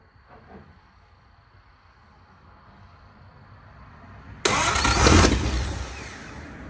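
A 1936 Ford 1.5-ton truck with a flathead V8 that has sat for 56 years: a faint cranking hum builds, then the engine suddenly catches and roars loudly, settling into a rough running rumble.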